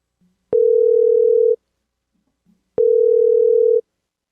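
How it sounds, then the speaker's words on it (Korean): A telephone call connecting: two identical steady ringback tones, each about a second long, separated by a pause, loud and clear with nothing else heard. "제가 한 분을 전화 연결을 했습니다"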